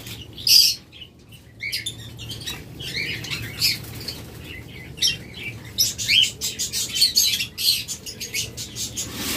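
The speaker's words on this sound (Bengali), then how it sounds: "অসংখ্য ডায়মন্ড ডাব রয়েছে, যারা নেবেন আমাদের কলোনি সেটআপে রয়েছে ডিম সহ।" Diamond doves in a colony aviary flutter and chirp in bursts of wingbeats and short high calls, irregular and close, with no talking.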